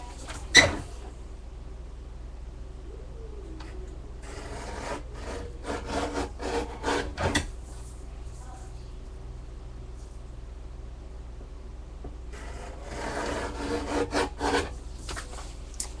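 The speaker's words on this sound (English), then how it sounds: "my guillotine cutter is just not as sharp as it used to be" A dull guillotine paper cutter chops through paper in scattered bursts of short scraping, rasping strokes, faint and close in an otherwise quiet room.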